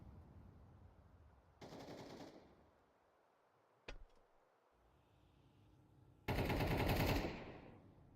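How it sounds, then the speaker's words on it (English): Bursts of automatic gunfire from a competitive esports video game match: one sustained volley, a single sharp crack, then a longer, louder burst, with no talk over them. "Shots coming in from Zoix."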